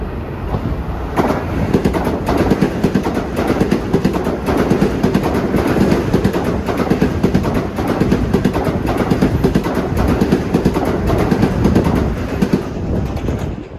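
An LIRR commuter train passes Woodside station at rush hour, a loud continuous roar with rapid clickety-clack of wheels over rail joints, close and steady for the whole stretch with no talk.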